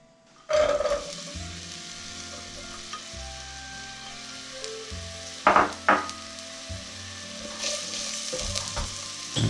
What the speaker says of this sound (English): when the oil starts to shimmer, we can add our onion